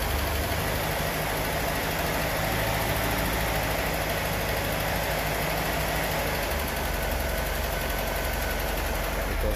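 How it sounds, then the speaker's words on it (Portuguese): A Chevrolet Opala Comodoro coupé with an alcohol-fuelled engine idles steadily while it warms up. The low engine rumble holds a constant level for the whole stretch, with no voices over it. "Como ele é álcool, dá uma esquentada no motor."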